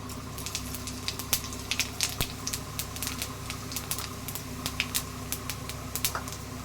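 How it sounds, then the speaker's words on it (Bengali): Cumin seeds spluttering in hot oil in a kadai, heard as faint, scattered sharp crackles and pops over a low steady hum, with no talking. "কড়াইতে দেখুন তেল দিয়েছি, তেলের মধ্যে জিরে ফোড়ন দিলাম।"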